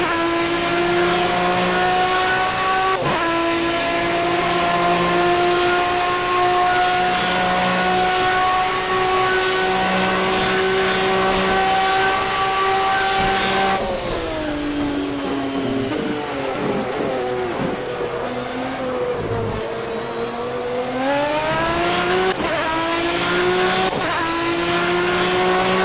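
Race cars lapping Le Mans in the racing game Project CARS, a loud, steady engine drone with rising and falling pitch as gears shift, engines revving and dipping mid-lap, no voices.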